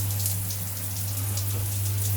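Water sprays steadily from a newly fitted shower head, a continuous close hiss over a low hum with no breaks and no talking.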